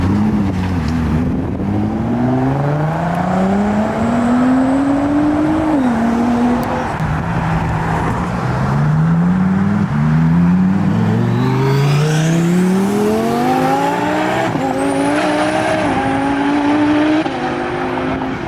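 A twin-turbo Dodge Hellcat rolls away from a car show, its engine revving and climbing in pitch through several loud, rising pulls with a high whine on top, close and continuous.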